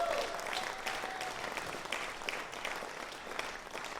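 Audience applause for performing musicians at a tribute show, a dense, steady wash of clapping that fills the whole stretch from start to finish.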